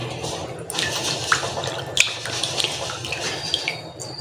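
Rice being washed by hand in a large bowl of water, with steady sloshing and swishing, soft drips and small splashes. The sound is close and continuous at a moderate level, with no speech over it.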